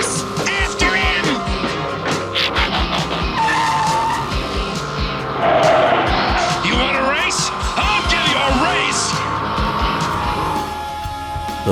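Tires squeal and an engine roars as an animated Autobot car races through a junkyard in Transformers: The Movie (1986), loud and continuous under film music and effects, with voices in the mix.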